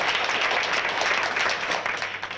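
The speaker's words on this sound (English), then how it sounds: "If you applaud, you only waste time that I could use talking to you." A dense wash of audience applause at a live comedy talk, steady and close throughout with no voices over it.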